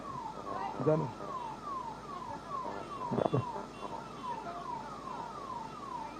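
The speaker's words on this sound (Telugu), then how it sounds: "అంబులెన్స్ ఓనియండి, తమ జరగండి సార్" An ambulance siren wails in repeated falling sweeps as it passes through a crowd at a political rally, fairly faint and distant beneath crowd noise and a couple of sharp thuds.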